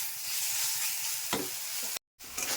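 Greens sautéed in hot oil in a pan, a loud, dense sizzle with the scraping swish of stirring, close, breaking off briefly to silence before the frying noise returns.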